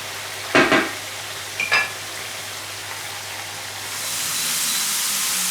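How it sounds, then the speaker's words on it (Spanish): Fried potatoes and meat reheat together in a pan: two short scraping stirs stand out over a low steady sizzle, which swells into a broader, louder hiss toward the end. "las echamos junto con la carne y lo calentamos todo junto si es que ya está muy frío"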